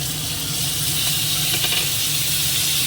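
Fried brinjal with tomato, coriander leaves and green chili cooks in a pan, giving a loud, even, unbroken sizzle up close, with no talking.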